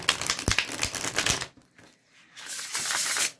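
Gilded Tarot Royale cards are shuffled and bridged up close, with a dense riffle of rapid flicking clicks, a brief pause, then a second riffle burst.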